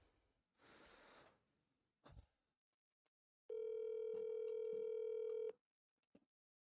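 A phone call rings out again: some faint breathing and rustles, then a single steady electronic ringback tone for about two seconds, followed by quiet.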